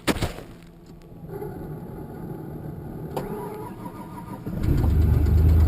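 A 1994 Mazda B3000 pickup that has sat for two weeks cranks over briefly, then fires and catches, settling into a loud, steady cold idle close by.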